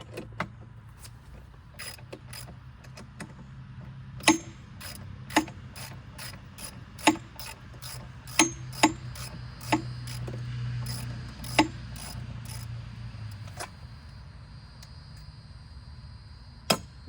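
A ratchet works a stubborn bolt loose on an abandoned ski boat, giving irregular sharp metallic clicks over a low steady hum.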